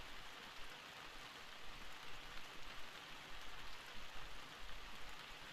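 Night rain falls in Hitman: Contracts, a soft, even hiss of drops that stays constant and fairly faint throughout, with no voices over it.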